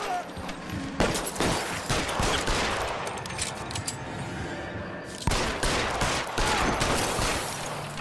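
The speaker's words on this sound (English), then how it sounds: "Well, there's a lot of shooting in this one." Heavy gunfire rattles through an L.A. Noire shootout, with repeated bursts and sharp volleys clustered around two peaks, loud against a steady din of combat noise.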